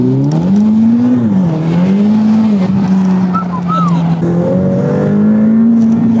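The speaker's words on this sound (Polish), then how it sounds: "Ferrari się ma drzeć, on nie ma mieć basowego dźwięku, ale on jest taki stłumiony mega" A Ferrari engine with a muffled exhaust revs hard inside the car, a loud, close, steady drone rising and dipping in pitch through gear changes, with a voice speaking briefly over it.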